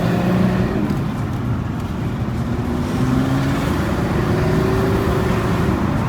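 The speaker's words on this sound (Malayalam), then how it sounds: "നോർമലി V സീരീസ് എഞ്ചിനുള്ള വണ്ടികൾക്കൊക്കെ ഒരു ഗർജനാണ്." A Porsche Panamera V-series engine roars in a steady, loud drone with a rising pitch, alone without talk.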